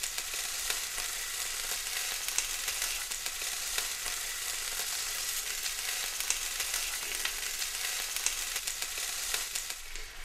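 Beef seared in a hot pan and turned onto its ends gives a steady, dense sizzle and crackle that runs unbroken for the whole stretch, close and fairly loud with no talk.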